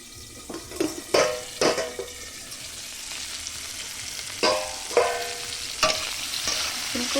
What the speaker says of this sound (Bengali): নাহলে কিন্তু ফুলকপিটা সিদ্ধ হবে না তার জন্য আমি আস্তে আস্তে করে ভাজছি